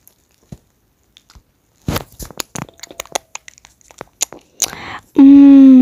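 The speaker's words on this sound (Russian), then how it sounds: "фруктовые салатики, мы сейчас быстренько их съедим" Cartoonish crunching and biting bursts from eating fruit salad in the Toca World video game, a quick string of chews followed by a loud sustained tonal chime, with no talking.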